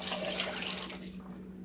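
Liquid poured into an Instant Pot for beef stew, a steady close splashing stream that thins slightly near the end, heard alone without talk.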